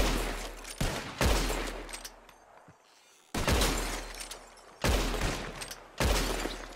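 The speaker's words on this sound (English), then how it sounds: "Soon as you pull your weapon and aim, we let fly." Gunshots aimed at bottles in Red Dead Redemption 2, sharp loud bursts coming in clusters with quick repeated cracks and shattering, separated by short quiet gaps, no talk.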